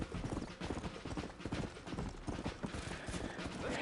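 Horse hooves clip-clopping steadily in Red Dead Redemption 2, a dense rhythmic run of hoofbeats at a trot, fairly close and continuous throughout with no talking over it.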